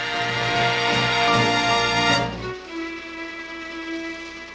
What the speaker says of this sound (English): Oh, Kermit, it wasn't such a bad train ride.